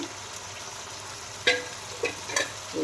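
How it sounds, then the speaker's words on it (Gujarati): A spoon stirring chole masala gravy with green coriander and garam masala in a pan, a low sizzle underneath with a few distinct scraping and clinking strokes. "લીલા લીલા ધાણા અને ગરમ મસાલો એડ કરી અને સારી રીતે હલાવી લેવાનું છે"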